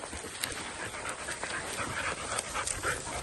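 A dog out among cattle pants rapidly and steadily at close range, quick rhythmic breaths over faint outdoor background noise.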